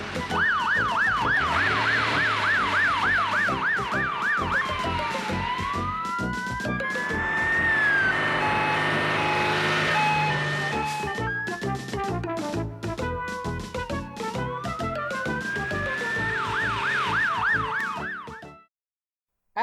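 A loud emergency siren wails continuously, alternating between a fast yelp and slow rising-falling sweeps before cutting off abruptly, sounding as a warning alarm at a railway yard, with no talking.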